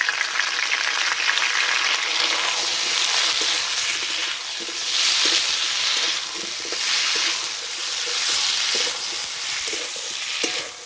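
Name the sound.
spice paste frying with potatoes and tomatoes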